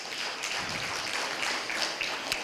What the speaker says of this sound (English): Another round of applause to Madam Sarah Kajingo,